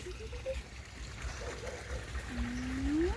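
Water flows and trickles steadily in a stream, a continuous gurgling wash heard nearby with some faint tonal sweeps over it and no talking.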